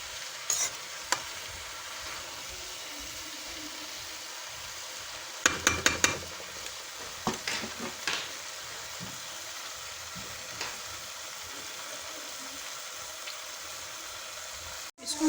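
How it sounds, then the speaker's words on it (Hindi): Kandoli curry is stirred and mixed in a pan over low heat, giving soft scraping strokes over a constant frying sizzle, with a burst of louder clatter midway and scattered utensil taps, close by and with no talking. "इसको हम अच्छे से मिक्स कर देंगे और फिर इसको ढक देंगे हल्की आंच पे"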